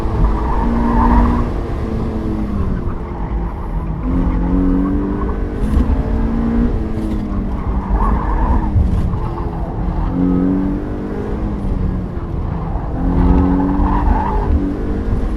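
A 2010 Mazda Miata PRHT at full throttle on a racetrack, its engine droning loud and steady with rising and falling revs and tire squeal over the whole stretch, heard from inside the car.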